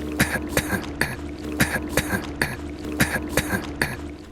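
Geralt in the video game The Witcher 3 coughs harshly and raspily in a steady rhythm of about nine hacks over a low background hum, loud and close, with no speech.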